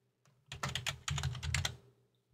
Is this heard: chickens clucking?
no